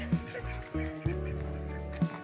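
A duck, tied up, quacks three times at spaced intervals, close by, over a steady low background hum.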